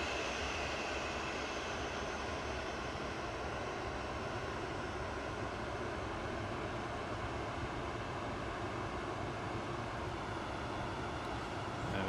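A TUI Boeing 737-800 jet departs Manchester Airport, its engines producing a loud, steady, broadband roar that holds for the whole stretch with no talk over it.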